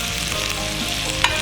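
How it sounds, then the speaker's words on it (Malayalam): Chicken sautés in a hot pan for a Thai dish, a continuous close sizzle with soft stirring scrapes and one brief clink. "ചെറുതായിട്ടൊന്ന് ഈ ചിക്കൻ്റെ പച്ച ചുവ മാറുന്നത് വരെ വഴറ്റാം."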